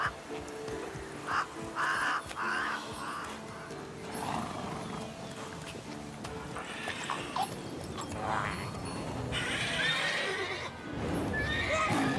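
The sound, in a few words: horse neighing and snorting, Roach in The Witcher 3 video game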